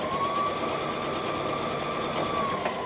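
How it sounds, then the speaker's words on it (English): A sewing machine stitches the facing of a Vogue 9345 dress, a fast even whirring run with a faint steady whine, loud and close and going on throughout, with no voice. "So I'm just going to sew the bit where the facing is."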